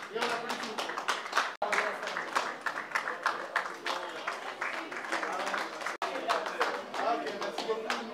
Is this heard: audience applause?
yes